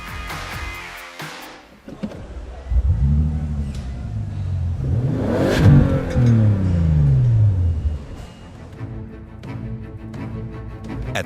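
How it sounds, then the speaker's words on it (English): A Bentley Continental GT W12 luxury sports car fires up for the first time at the end of the factory production line, its engine cranking, catching and revving hard in rising and falling sweeps, loud and close, before settling. "Then the luxury sports car is allowed to roar for the first time."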